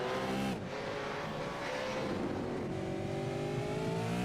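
Race cars in a V8 Supercars sim racing game on the Chicago street circuit scream past with loud, continuous engine roar, rising and falling revs and a brief dip near the start, with no talk over it.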